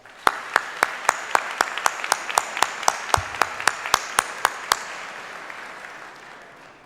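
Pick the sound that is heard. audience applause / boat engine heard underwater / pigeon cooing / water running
audience applause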